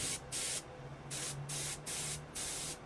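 Old pale gold metal-flake paint spraying from a spray can in five short hissing bursts with brief pauses between them, close and fairly loud.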